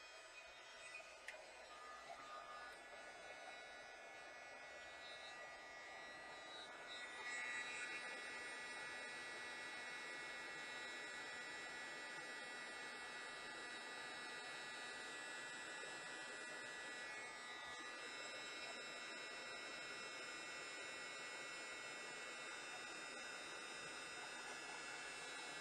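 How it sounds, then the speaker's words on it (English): A handheld heat tool blows hot air to melt embossing powder on a Christmas card envelope, giving a steady, close whirring hiss that starts softly and then settles into a constant drone. "grab the heat tool, and we are almost done"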